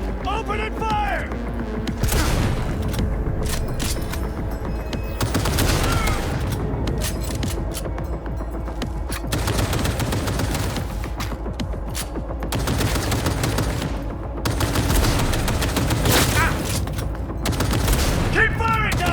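Sustained automatic gunfire and heavy bursts from a firefight in Cyberpunk 2077, loud and continuous for the whole stretch, with booming impacts and game dialogue voices mixed in.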